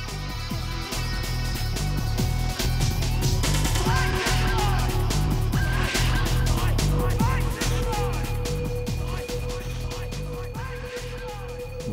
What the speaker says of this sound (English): we're in Speed Karting's indoor go-kart stadium in Warrington